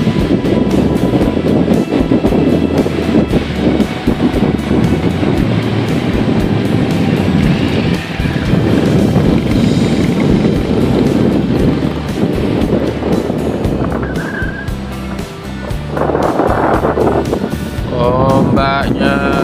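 Strong wind and surf at Kemantren beach in Paciran, Lamongan, roaring continuously with heavy wind buffeting on the microphone and rolling waves throughout, loud and close, with a voice briefly audible over it.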